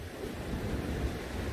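Sea waves wash on a calm UK beach in Scotland, a continuous broad surf rush with wind, moderately loud and without speech.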